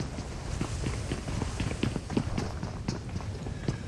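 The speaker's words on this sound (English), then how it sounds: "hears the footsteps going through the store across the way" Rapid running footsteps of a player crossing through a store in PUBG Mobile, a steady quick patter of light thuds at moderate distance over a low game ambience, with no talk.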